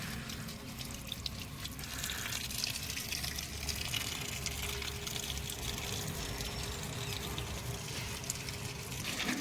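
Running water splashes steadily as it rinses soil off the roots of an Adenium arabicum plant during repotting, a continuous close gushing pour with no talk.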